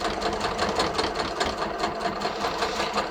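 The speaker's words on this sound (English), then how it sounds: "when I get to the tip of the dart, I'm just going to keep stitching until I stitch right off the edge of the fabric" A domestic sewing machine stitches steadily off the edge of the fabric at the tip of a bust dart, its fast, even motor whir and needle chatter running continuously and close up.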